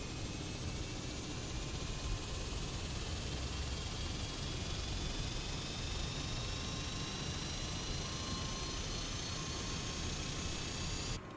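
Cessna 208 turboprop engine running with its propeller spinning in Microsoft Flight Simulator, a steady, loud, broadband roar and whine holding constant throughout, with faint high tones slowly rising, no talk.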